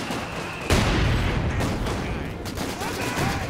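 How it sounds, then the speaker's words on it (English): Vickers machine gun and other battlefield fire in Company of Heroes 2, a World War II strategy game: a loud burst starts early, then dense, continuous gunfire and explosions roar on throughout. "I'm gonna bring the Vickers here, which should level that in"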